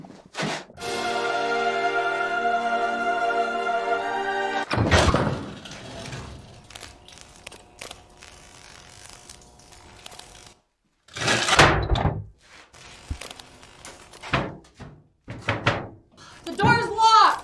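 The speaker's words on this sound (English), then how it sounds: "The door's locked! It sticks." Door that is locked and sticking being tried: a long creaking, squealing pull followed by sharp thuds and knocks against the door and handle rattles, with voices speaking between the bursts.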